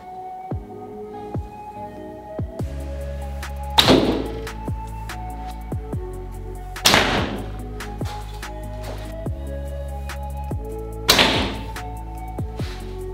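Arrows shot indoors from a bow with a dense wood riser: three sharp release thwacks with a fast snap and brief ring, spaced several seconds apart, with lighter knocks and taps between them in a quiet room.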